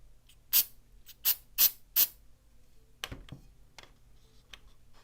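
Super glue activator is sprayed from a small pump bottle in four short, sharp hissing bursts close to the microphone, followed by a few faint clicks and handling taps, with no speech.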